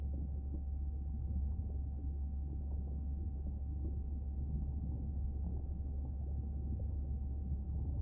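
Deep ocean ambience in the video game Beyond Blue, a constant low rumble with faint drawn-out whale calls rising and falling beneath it, steady throughout with no voices.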